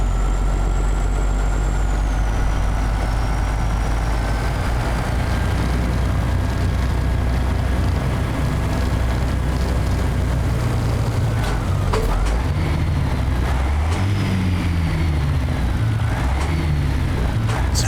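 A heavy truck's diesel engine idles at a steady loud rumble in American Truck Simulator, with a whining tone that slowly falls and some clanks near the end.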